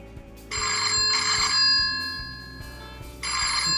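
A Q528 kids' smartwatch rings with an incoming call, giving three bursts of a bright electronic ringtone separated by short gaps, loud and close with no talk.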